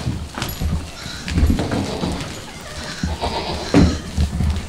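Goats bleat several times at close range, mixed with shuffling, hoof clatter and rustling movement.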